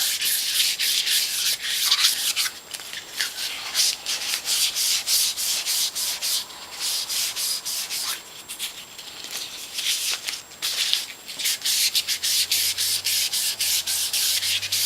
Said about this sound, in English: Now I'm going to clean the piston shaft with 600 grit sandpaper.